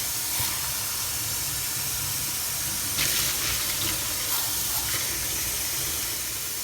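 Tap water runs steadily into a kitchen sink while dishes are washed, a continuous broadband hiss and splash with slight surges in intensity and no voices.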